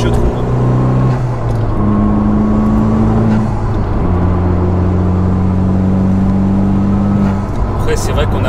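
A Honda Civic Type R FK2 engine drones and revs while driving in light traffic, steady in-cabin tones shifting pitch as it accelerates, loud and continuous.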